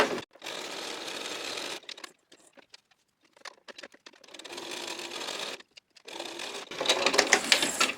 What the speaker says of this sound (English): I'm going to take my little bit of fabric there, and then just sew down through the middle.